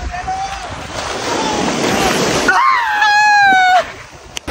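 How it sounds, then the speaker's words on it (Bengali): Surf rolls in and breaks on the shore at Mandarmani beach, a broad washing roar filling the middle of the clip, with wind buffeting the microphone and a whistle-like tone rising over it near the end. "দাঁড়া ঢেউ আসছে, এই ঢেউটা আসছে"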